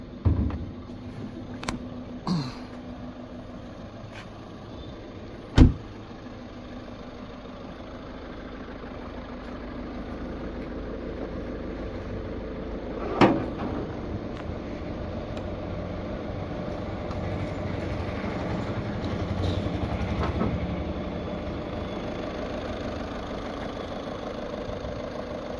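A 2015 Skoda Rapid 1.5 TDI Elegance Plus diesel with about 60,000 km idles steadily with its bonnet open, a low, even rumble that runs the whole time, with a few sharp clicks and knocks early on.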